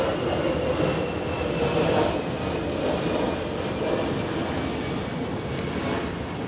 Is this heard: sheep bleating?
no